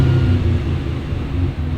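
Ferrari 575M V12 engine running through a Tubi muffler exhaust, a steady deep low-pitched rumble with a smooth mellow drone, close and continuous, no voices.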